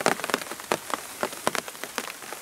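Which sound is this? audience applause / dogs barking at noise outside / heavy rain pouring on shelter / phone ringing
heavy rain pouring on shelter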